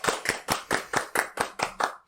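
Two people clap their hands about nine times in a quick, even rhythm, close and crisp, with no talk over it.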